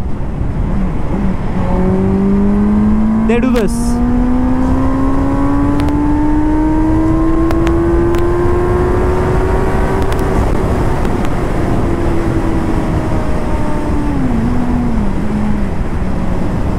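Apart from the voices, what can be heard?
motorcycle engine revving to red line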